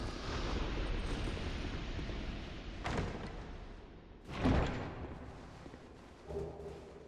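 An exploding enemy in Dark Souls 2: Scholar of the First Sin detonates in the Lost Bastille with heavy booming thuds, a loud blast near the middle and smaller thumps before and after, over a constant rumbling background.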